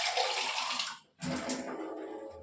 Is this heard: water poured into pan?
yes